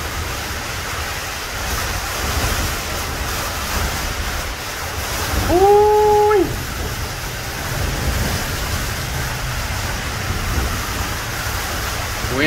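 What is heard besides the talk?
strong wind and rainstorm outside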